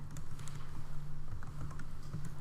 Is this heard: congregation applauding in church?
no